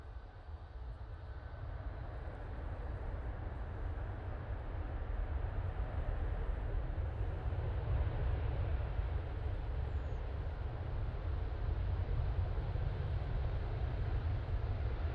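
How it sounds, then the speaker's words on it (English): Virgin Atlantic Airbus A350-1000 on short final to landing at Manchester Airport, a steady, broad jet roar that builds gradually and holds at a moderate distance throughout, with no talk. "Virgin A350-1000 now in short final"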